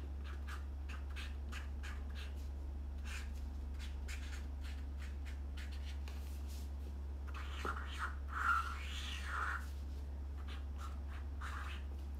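A pen writes on paper close up, quick scratchy strokes in short bursts with pauses, over a steady low electrical hum, with a brief soft murmur partway through.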